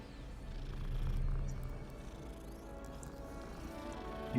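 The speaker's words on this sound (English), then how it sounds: "You purr for me." A cat purrs in a wizarding video game, a steady low rumble running through the whole stretch and swelling louder near the start, with no speech over it.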